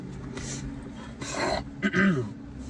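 A few raspy congested coughs and throat-clearing sounds from someone who is ill, close and fairly soft, spaced unevenly over a quiet low background.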